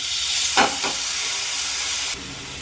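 Chopped chicken sizzles with browned onions in a pan for chicken momo, a steady close frying hiss with a brief surge early on and a slight drop in level near the end.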